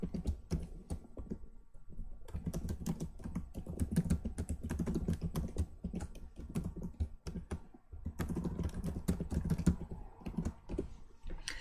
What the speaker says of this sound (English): let me type this out before I try to explain that